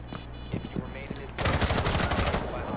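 A rapid burst of gunfire in a first-person shooter video game erupts loud and dense after a short stretch of casual voices, with talk continuing underneath the shots.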